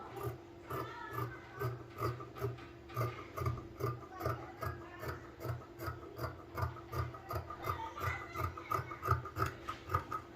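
Pillow cover fabric being cut with scissors, a close rhythmic rasping of blades through cloth, repeating at an even pace, roughly two strokes a second throughout.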